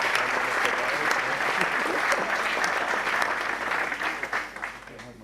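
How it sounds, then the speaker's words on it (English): A room of attendees at the FSG Academy welcome session breaks into a big round of applause, loud and sustained at first, then thinning into scattered claps as it fades toward the end. "I think that's worth a big round of applause for the people with a long journey"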